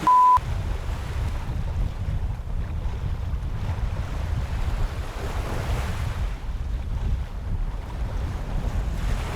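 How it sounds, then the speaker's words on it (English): A gentle morning breeze buffets the microphone as water washes steadily against a sailboat tacking out of a channel in Alaska's Inside Passage, with a continuous rushing wind-and-wave noise and no talking. "There's a glorious little morning breeze coming in here"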